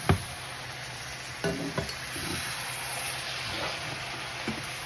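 Light sizzling in a frying pan as carrots, taro and noodles are stirred, with a few scraping stirs and soft clinks of a utensil against the pan, close by.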